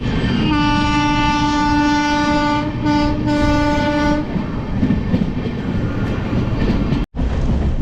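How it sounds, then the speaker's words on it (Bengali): The Amrit Bharat Express, train 22587 from Sealdah to Benaras, runs with a loud sustained horn blast over a heavy rumble and rhythmic clatter of wheels on track, heard from on board as the roar continues after the horn stops. "আস্তে আস্তে আমাদের ট্রেন কিন্তু বর্ধমানের দিকে এগোচ্ছে।"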